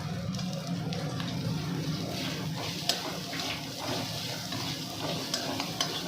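Chopped vegetables sizzle and crackle in a pan over high gas flame, with occasional scrapes and clinks of a stirring spoon.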